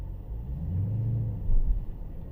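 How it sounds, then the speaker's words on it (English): A car drives slowly through an airport, its steady low engine rumble close and continuous, swelling briefly near the end, with no talk. "Driving through the airport right now."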